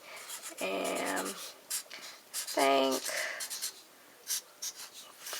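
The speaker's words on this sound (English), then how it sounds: "then you're going to sign it with the Sharpie marker" A Sharpie marker squeaks and scratches across paper in short bursts of writing, with quiet pauses between strokes and a soft voice speaking between them.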